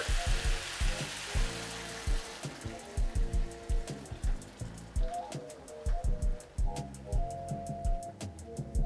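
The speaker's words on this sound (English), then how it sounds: "Now we're going to add our coconut milk" Coconut milk hits a hot pan for green curry chicken and sets off a crackling sizzle that continues under low, pulsing background sounds.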